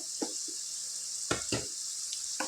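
Mutton for a masala curry frying in a pan, a continuous steady sizzle with a few soft clinks and stirring knocks scattered through it, close and even.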